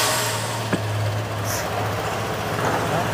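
A Piaggio Liberty scooter with Ho Chi Minh City plates rumbles steadily at idle after starting, a low, even engine drone running throughout at close range.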